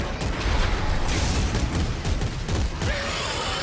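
Gunfire in the sci-fi horror shooter Dead Space 3, heard as rapid, dense bursts of shots with mechanical clatter that fill the whole moment loudly, with no pauses.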